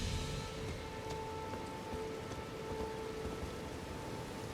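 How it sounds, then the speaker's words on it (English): Rain falls in the video game Elden Ring, a soft, steady hiss of raindrops that stays low and even throughout, with no voices. "And now it is raining."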